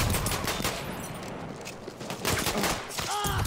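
Rapid gunfire crackles in a shooter video game, bursts of automatic fire and sharp sniper shots at moderate loudness, with a brief electronic tone near the end and no clear speech.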